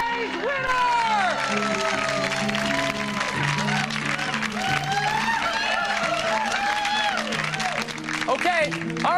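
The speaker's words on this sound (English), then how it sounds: "Give them a big round of applause." Studio audience applause on the 1998 game show Extreme Gong, a dense, steady roar of clapping and crowd noise mixed with music and voices talking over it throughout.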